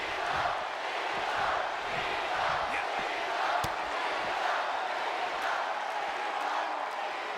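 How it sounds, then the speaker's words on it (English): A large video game wrestling arena crowd in WWE 2K22 roars and cheers continuously, a dense wash of distant voices with occasional sharper shouts rising above. "The sound of this crowd is deafening,"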